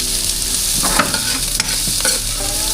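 Garlic and onion sauté in hot oil, a steady close sizzle with a few scraping stirs of a spoon through the pan, no voices.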